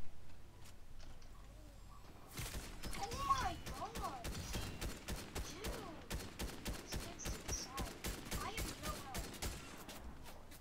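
Rapid rhythmic gunfire in a video game starts after a quiet opening and keeps up a steady pulsing stream of shots, fairly faint overall.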